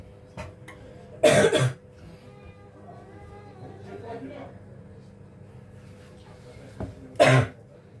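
Two loud, close bursts of coughing, one early and one near the end, with quieter kitchen sounds and faint activity in between during a tiramisu preparation.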